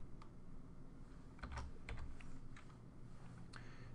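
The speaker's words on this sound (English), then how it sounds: "type up the rest of my message" Someone types a message on a computer keyboard with quiet, scattered keystrokes and a few brief clusters of clicks, faint over a low room hum.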